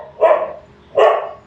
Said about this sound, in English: the dog stopped barking now as soon as I got up